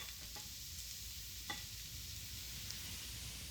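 Tomatoes go into a hot pan of butter and garlic, raising a steady close sizzle with a couple of soft stirring scrapes and light clinks.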